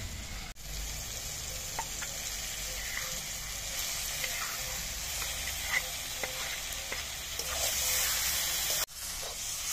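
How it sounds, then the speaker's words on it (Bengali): Raw pangas fish coated with spices sizzles in a pan over fried tomato and onion, giving a steady close hiss with small pops and occasional stirring taps, and no talking. "কাঁচা মাছ মশলা দিয়ে মাখায় রাখছিলাম"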